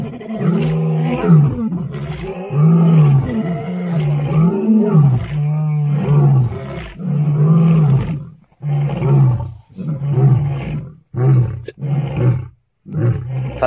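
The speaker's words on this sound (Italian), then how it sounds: "Fantastico questo ruggito." An African lion roars loudly and close, a long sequence of deep, groaning roars that break into shorter, choppier grunting bursts toward the end.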